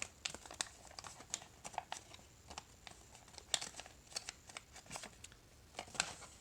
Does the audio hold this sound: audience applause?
no